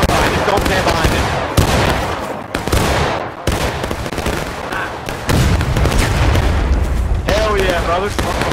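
Cannon artillery fire in the War of Rights Civil War video game, loud booms and crackling gunfire bursting through a busy battlefield mix while players shout and talk over the chaos.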